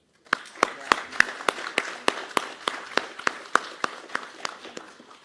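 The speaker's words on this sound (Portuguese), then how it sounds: "Mais uma salva de palmas." Applause at a formal ceremony for a new board of directors: a steady run of about twenty separate, evenly spaced sharp claps over five seconds, slightly distant with room echo, no voices.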